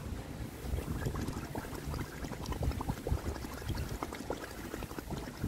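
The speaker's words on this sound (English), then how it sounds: "You see, I blow, but I never stop my blowing." Breath blown out steadily underwater in a swimming pool, a continuous close bubbling and gurgling that never pauses, with no talking.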